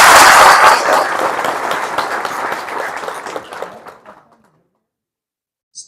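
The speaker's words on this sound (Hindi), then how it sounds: "सबको अपने स्पॉन्सर के लिए जोरदार ताली होना चाहिए" An audience at a DXN sponsor seminar breaks into loud applause, a dense wash of many hands clapping that thins out and fades to silence within about four seconds.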